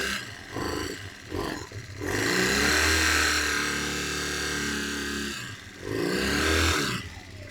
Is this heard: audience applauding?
no